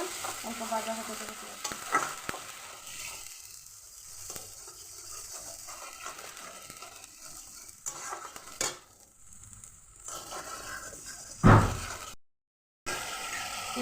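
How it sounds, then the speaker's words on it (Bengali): Onion paste frying in oil for a small-fish curry, a steady close sizzle with occasional stirring scrapes and utensil clinks, ending in a loud burst then a brief silence. "পেঁয়াজ ভাজা হয়ে গেছে"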